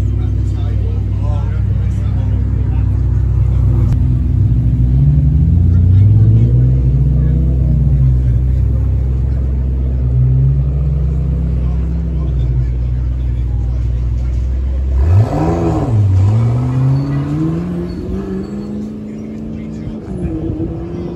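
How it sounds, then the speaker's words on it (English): McLaren sports car engine revving loud and close from inside the cabin while driving, its pitch rising and falling through gear changes with a sharp surge near the end, a voice talking over it. "today I'm going to be driving a McLaren"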